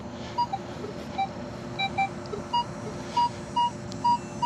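A Minelab Equinox 800 metal detector chirps out a string of short, repeating electronic beeps in a park, evenly spaced over steady outdoor background noise.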